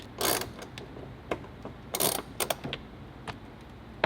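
Ratchet wrench tightening bolts on the A-pillar of a 2022 Toyota Tundra, heard as several short bursts of rapid clicking with pauses between strokes, close and fairly quiet with no talking.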